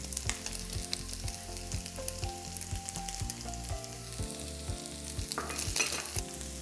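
Onions and ground meat sauté in a pan for Bolognese sauce, a close, continuous crackling sizzle with stirring scrapes, while faint background music plays and nobody speaks.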